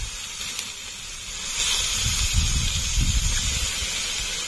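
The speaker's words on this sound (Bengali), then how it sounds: "এবার কিছুক্ষণ কষে নেব।" Chicken liver sautéing in a small amount of oil gives a steady close sizzling hiss with a low bubbling crackle that thickens midway through, and no one speaks.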